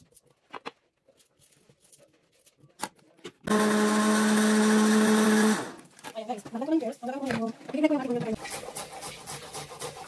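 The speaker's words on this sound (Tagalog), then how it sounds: "i-blender ko muna itong ating Asian pears" A blender grinds chunks of Asian pear in a loud, steady burst lasting about two seconds, preceded and followed by scattered kitchen clatter and talking.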